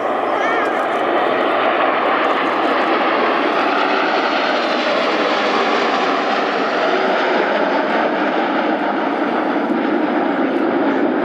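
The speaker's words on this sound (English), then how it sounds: "as the smoke goes off, we'll see the Patrouille Suisse positioning their F-5s" Swiss Patrouille Suisse F-5 jets at the Royal International Air Tattoo air show, a steady loud roar of aircraft engines filling the whole stretch, with a commentator's voice over the public address.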